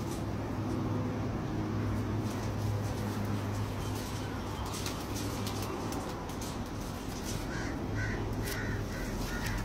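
Teddy pigeons from a breeder's stock kept at a home loft, with bird calls and cooing running continuously through a dense, steady outdoor background.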